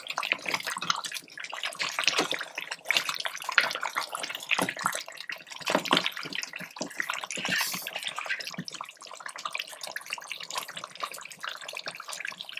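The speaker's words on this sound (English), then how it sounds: "At this point, we're going to stir." Peanut butter beef stew being stirred in a pot, a steady wet sloshing and scraping that carries on throughout at moderate loudness with no talking.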